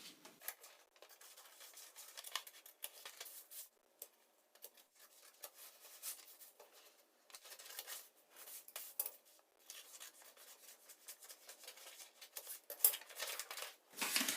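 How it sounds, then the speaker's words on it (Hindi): Scissors cut through blouse fabric for a size 34 double katori blouse, with soft, crisp snips and rustling cloth in irregular bursts and short pauses, close but quiet. "अब हम इसमें सभी पार्ट को काट लेंगे इस तरह से। अब हम यहाँ से कटिंग करेंगे।"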